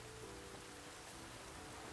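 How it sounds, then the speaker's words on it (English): Rain in The Witcher 3 falls as a steady, soft hiss of dense drops, faint and unbroken throughout. "Looks like rain."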